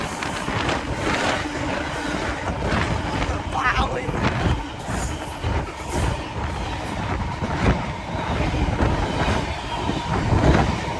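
Train departing Stoke-on-Trent toward Birmingham New Street, heard from the front carriage as a loud, continuous rumble with rattling and clatter that swells slightly toward the end.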